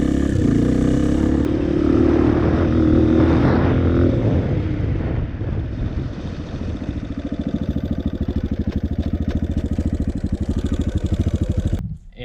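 A dirt bike engine winds down as the rider coasts to a stop with the clutch pulled in and shifts down through the gears, loud and close, settling into a fast idle chug before cutting off.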